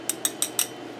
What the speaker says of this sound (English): you're going to take 1 egg white, just one, and you're going to whisk it.